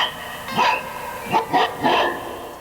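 Synthesized dog barking played on a Synclavier synthesizer: four short, percussive bark-like hits in two pairs, fairly close and clear, with no talking.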